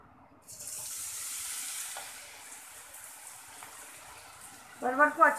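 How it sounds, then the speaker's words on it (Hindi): Pointed gourd (parwal) pieces frying in hot oil in a kadai, giving a steady, close hiss that settles slightly, with a brief clatter of stirring near the end. "हम पहले ये परवल पूरा फ्राई कर लेंगे"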